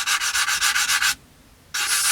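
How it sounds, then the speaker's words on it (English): A coarse sanding sponge scrubs the tops of cannon stubs on a 1/48 scale Tamiya Beaufighter model, making close, rapid rhythmic rasping strokes, then a brief pause before the scrubbing resumes. "sanding sponge just to set the tops down before we swap very quickly back to the favourite"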